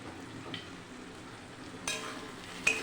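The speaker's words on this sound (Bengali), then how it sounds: "ঢাকনাটা খুলে একটু নাড়াচাড়া দিয়ে নেব।" Lotus stolons (loti) being stirred in a covered pan, with a low sizzle and soft scraping, and a brief clatter as the lid is lifted near the end.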